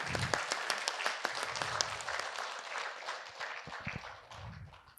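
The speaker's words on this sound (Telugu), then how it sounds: "ఒకసారి గట్టిగా చప్పట్లు కొడదాం" A crowd applauds, many hands clapping in a dense, fairly close burst that gradually thins and fades toward the end.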